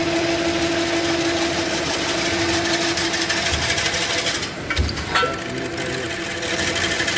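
Wire coating machine running steadily as galvanized wire feeds through a die to receive green coating, a continuous mechanical hum with a few brief knocks near the middle, no talk.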